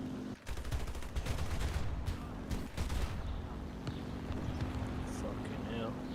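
Large cannons fire in a video game with heavy, booming blasts and rapid bursts that crowd the opening seconds, then thin out into scattered distant shots over a steady low hum, with a voice talking over it.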